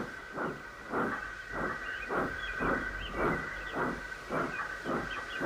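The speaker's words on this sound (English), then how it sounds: "Thomas puffed away, and after a while Henry set off again" Steam locomotive puffing rhythmically, about ten regular chuffs under a steady high hiss of steam, continuous and fairly close.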